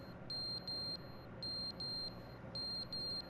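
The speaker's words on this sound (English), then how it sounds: "Turn off the fire alarm." In The Stanley Parable, a fire alarm emits high, piercing electronic beeps in short clustered bursts of two or three, repeating steadily over a low, constant background hum.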